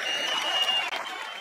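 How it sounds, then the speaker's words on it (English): Audience applause at a stand-up comedy show, a steady wash of clapping from the crowd with a brief dip near the end, moderately loud and continuous. "Come on, give a round of applause, Scottish man!"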